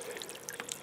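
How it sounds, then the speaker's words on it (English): Water from a small solar fountain splashes and trickles steadily in a soft, continuous patter with a few brighter drips, close and faint. "It adds a really nice sound of that water."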